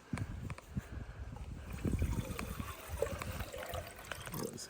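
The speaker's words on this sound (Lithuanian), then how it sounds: "Įsipilam vandenuko." Water pours into a pot with a trickling, splashing sound, close and fairly loud for about four seconds, with a few knocks and clatters mixed in.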